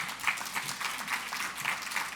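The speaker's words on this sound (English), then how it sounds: "let's give a round of applause for that." Steady applause from a crowd, dense clapping with no pauses, fairly close and moderately loud throughout.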